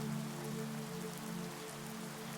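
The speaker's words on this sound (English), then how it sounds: "as you get lost in the sleepy rhythm of the rain" Steady rain falls at a lake cabin, a soft, even patter of drops on surfaces over a low, constant hum, with no voices.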